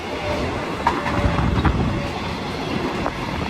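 The Laos–Thailand international train runs into Nong Khai station, heard from aboard as a steady loud rumble of wheels on rail with faint clicks and a brief squeal.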